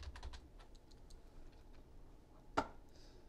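Keys on a computer keyboard click in a quick cluster of soft taps, then go quiet before one sharper keystroke near the end, all faint and close.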